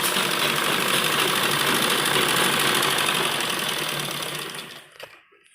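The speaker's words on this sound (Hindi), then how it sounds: "उसी तरह पहले गोलाई जो हमने दी है उस पर सिलाई लगाएंगे और फिर जो हमने सीधी लाइन खींची है उस पर सिलाई लगाएंगे।" A sewing machine runs steadily while stitching a kurta sleeve, giving a loud, close, continuous mechanical whir with fast rhythmic stitching. It slows and stops near the end, leaving brief quiet.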